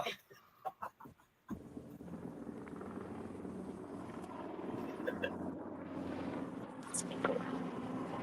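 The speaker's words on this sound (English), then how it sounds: "Helicopter." A helicopter passes overhead outdoors, its steady whirring roar rising after a brief stretch of voices and then holding at moderate loudness as it stays in the air.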